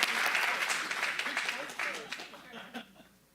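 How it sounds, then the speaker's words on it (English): Applause at a county supervisors' regular meeting, a room of hands clapping that starts full and gradually tapers off, with some voices and light laughter mixed in toward the end. "Give a round of applause."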